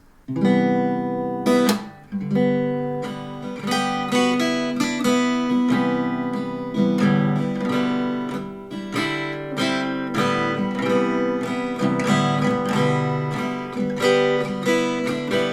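Guitar chords strummed expressively with bright higher notes ringing on top, a slow melancholy progression played alone and close.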